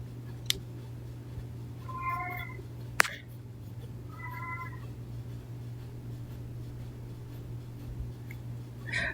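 A house cat meows twice at a distance, two short, faint calls spaced a couple of seconds apart, over a steady low hum with a sharp click between them.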